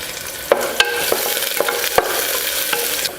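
Onion and whole spices (cloves, cinnamon, cardamom, bay leaf, green chilli) fry in hot oil for biryani, a loud steady sizzle broken by sharp stirring clicks and scrapes.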